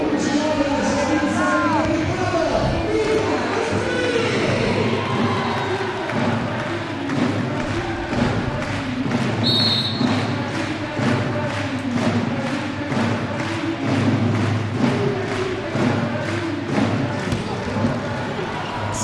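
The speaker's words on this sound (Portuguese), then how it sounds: "O Gasparini tem uma torcida uniformizada que quando ele vai sacar começa a tocar Gasparini, Gasparini" Organized fans in a volleyball arena chant a player's name in a steady rhythmic cadence as he steps up to serve, a dense crowd roar with repeated beats over the hall's ambient noise.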